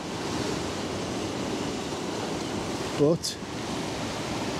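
Ocean waves break on the shore in a steady, moderate wash of surf with wind noise, a brief spoken word partway through.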